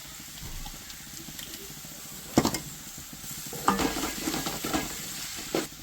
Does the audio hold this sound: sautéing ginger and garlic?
yes